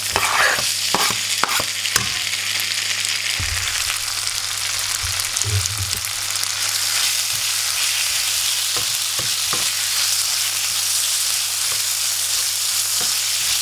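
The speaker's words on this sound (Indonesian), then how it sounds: "Nah, ini ayamnya udah berubah warna dan kita masaknya sebentar aja ya." Chicken pieces seasoned with paprika, salt and pepper fry for spring rolls, sizzling loudly and steadily in a hot pan while a utensil scrapes and taps as it is stirred.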